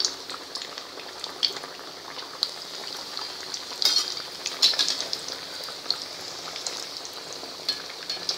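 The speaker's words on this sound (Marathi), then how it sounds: "गॅस वाढवते मी आता आणि मध्यम आज करते आणि गुलाबी होईपर्यंत तळून घेते." Suran (elephant foot yam) vade deep fry in hot oil over medium heat, giving a steady close crackling sizzle with scattered sharp pops and spits, and no voices.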